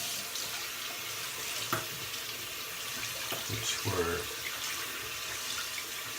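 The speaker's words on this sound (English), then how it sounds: "putting some warm water on, so it's nice." A tap runs warm water onto a Simpsons Chubby 2 Super Badger shaving brush, a steady close splashing stream with faint trickling shifts, while someone talks briefly over it.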